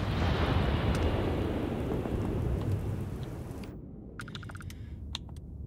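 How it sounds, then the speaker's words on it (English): Heavy rain pours down steadily in the video game Starfield, falling as hot liquid rain on an alien world. It plays loud and alone for several seconds, then abruptly cuts to near silence with only a few faint clicks. "In liquid rain, hot rain."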